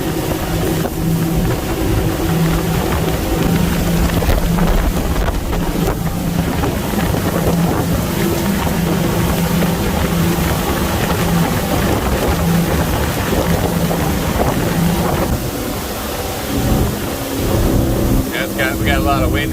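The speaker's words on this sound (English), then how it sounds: "We got a lot of wind for our sailboat here, huh? Pretty windy day." Strong wind buffets the microphone aboard a Tiara 38 LS powerboat during a test run on open water, a loud continuous roar mixed with engine and hull noise throughout.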